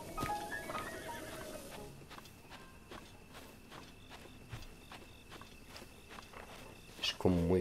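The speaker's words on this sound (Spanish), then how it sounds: "aquí hay caballos." Horse in Zelda Breath of the Wild video game, a loud whinny at the start followed by a steady series of hoof clip-clops, with someone talking in the background.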